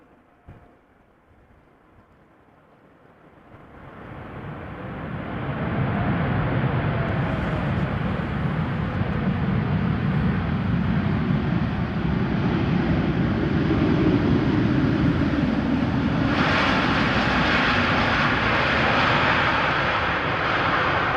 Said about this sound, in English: But not before this Dreamliner has touched down, arriving from Cartagena, KLM flight 749.